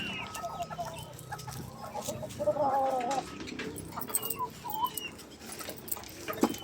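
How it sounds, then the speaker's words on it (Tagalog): A young Brahma chicken chick, tall for its age, with soft peeping and clucking fowl calls scattered through the clip amid busy yard background noise; a brief tonal chirp run stands out near the middle. "ang pinakamatangkad kong sisiw na Brahma"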